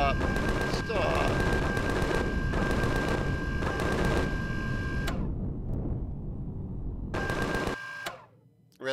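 Automated turrets in the space survival game Empyrion - Galactic Survival fire in dense, sustained bursts, with a steady tone running through the barrage, then cut off abruptly before one last short burst.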